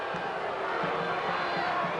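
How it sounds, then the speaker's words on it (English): Large crowd at a 1990 college football game between James Madison and Georgia Southern grumbling and shouting in a steady, distant roar after a clipping penalty, with no distinct single voices. "The crowd's not happy about it."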